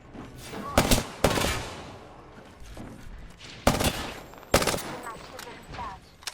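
Gunfire in a first-person shooter game, with sharp bursts of automatic fire at intervals over a constant low background of combat noise and no talking.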